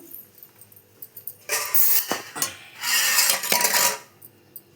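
Maggi noodles being served into a serving bowl, with scraping and clinking of a utensil against the pot and bowl in two loud close bursts, separated by quieter handling.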